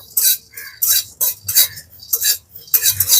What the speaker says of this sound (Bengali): জিরে আর গোলমরিচটাকে শুকনো খোলা এরকমভাবে হালকা একটুখানি নেড়ে নেব